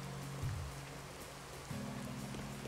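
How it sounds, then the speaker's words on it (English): Rainy ambience in the video game A Hat in Time, a steady soft hiss of rainfall running throughout, with low droning background tones underneath and no talking. "This level also has, like, the rainy ambiance."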